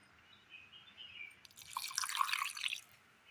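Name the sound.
pouring a little water into a mixer jar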